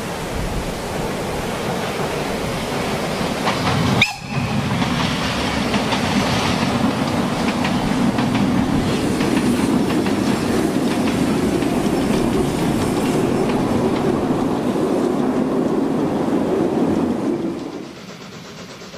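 Class IV K four-cylinder compound steam locomotive hauling a train past on Rügen near Pastitz in autumn: a loud, continuous rolling roar with wheel rumble and clatter, a sharp click near the start, fading toward the end.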